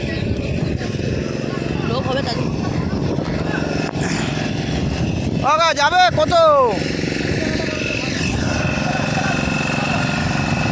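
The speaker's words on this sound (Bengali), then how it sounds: "নৌকাটা বেরিয়ে যাচ্ছে, নৌকাটা উঠে যায়," A motor boat pulling away from the shore at Talsari, its engine droning steadily and fairly loudly while people talk nearby.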